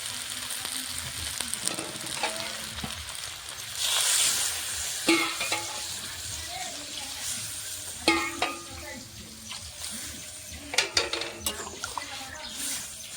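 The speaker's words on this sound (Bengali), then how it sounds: "দেখো এখন জল দিয়ে দেবো।" Potatoes and spinach frying in a pan for a fish curry, with water poured in and the mix stirred; a steady sizzle runs throughout, broken by scraping spoon strokes and a few sharper clinks against the pan.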